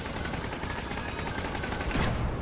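Dense, steady gunfire fills a Mass Effect 3 firefight on Horizon's Sanctuary level, with sniper rounds cracking among continuous rattling shots, loud and sustained, and a heavier burst near the end.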